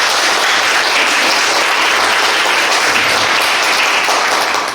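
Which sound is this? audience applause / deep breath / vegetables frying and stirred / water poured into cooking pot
audience applause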